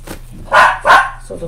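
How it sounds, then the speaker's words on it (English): A pair of sharp, close dog barks in quick succession, loud and alone, followed by a brief quieter trailing sound. "Oh, damn dogs."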